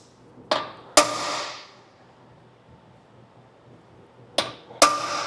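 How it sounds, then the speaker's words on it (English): A metal center punch is struck with a hammer against a steel RV frame, sharp ringing taps in two close pairs separated by a pause, each with a brief metallic ring. "I'm going to take the punch and I'll make a little divot in the frame there to help use as a guide for our drill bit."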